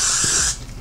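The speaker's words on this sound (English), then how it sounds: "Let me spray it this way." Got to Be hair spray hisses in one steady, close burst for about half a second during a hair install, then cuts off, leaving faint room noise.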